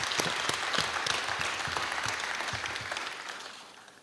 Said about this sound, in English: please, a nice round of applause to all the staff members and the students